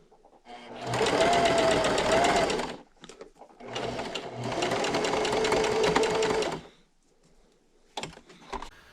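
A sewing machine back-stitches napkin fabric in two sustained whirring runs of rapid needle clatter, each a couple of seconds long, with brief clicks and handling noises between them, close and loud.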